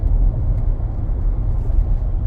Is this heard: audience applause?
no